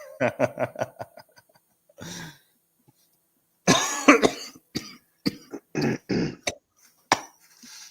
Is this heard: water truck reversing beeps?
no